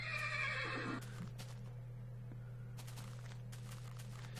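A horse in the Minecraft video game whinnies loudly and briefly at the start, followed by sparse, faint clip-clop hoof steps over a low steady hum.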